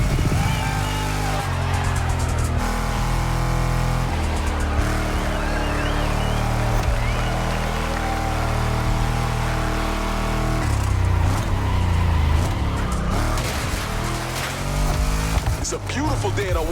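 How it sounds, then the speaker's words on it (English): Car engines from a donk versus lowrider event in The Crew Motorfest, set in Oahu, Hawaii, rumble loudly and steadily throughout, with revving surges and a busier stretch near the end, mixed with a voice talking over them. "Let's hear these engines."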